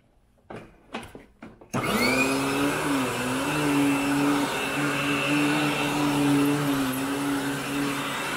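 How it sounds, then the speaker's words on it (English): A few clunks and knocks come first, then a carpet-cleaning vacuum used for dry soil removal starts up loud and close, settling into a steady whining roar with slight pitch wavers. "I'm gonna go ahead and get started with the vacuum"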